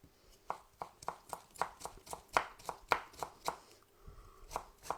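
Cucumber being finely chopped with a knife on a cutting board for cucumber kimchi, about sixteen close, crisp knife strikes in a fairly steady rhythm, some louder than others, with no talking.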